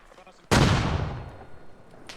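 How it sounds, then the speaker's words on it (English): A single mortar shell fires in the Arma Reforger military game, one sharp loud boom that cuts in abruptly and decays over about a second and a half. "If you hop on the mortar pit, I'll drop shells."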